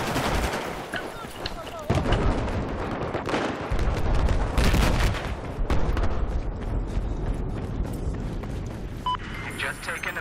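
Rapid M16 rifle fire in Battlefield 4 crackles in repeated bursts across a dense, loud battlefield mix, with other gunfire and explosions layered in and a voice talking over parts of it.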